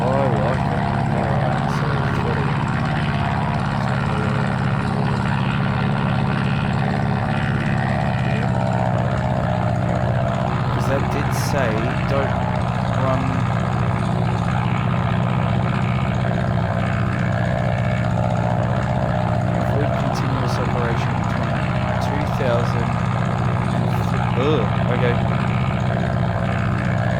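Christen Eagle propeller plane in DCS World makes a constant droning engine hum with a steady buzzing whir throughout, with someone talking over it.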